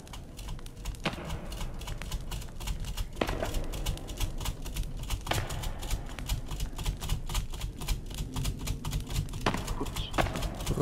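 Loud, rapid computer keyboard typing clatters on steadily without a break, with occasional sharper key slams standing out among the dense clicking.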